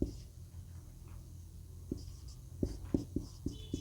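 Chalk or marker taps and strokes on a board during a Hindi grammar lesson, a quiet scratching run followed by a series of sharp, close knocks toward the end, with no talking.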